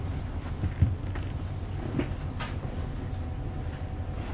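A train runs along the line between Koblenz and Mainz in Germany, giving a steady low rumble with occasional sharp clicks and knocks, heard close and continuous.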